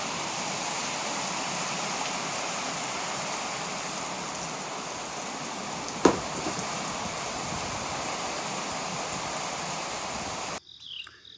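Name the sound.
rain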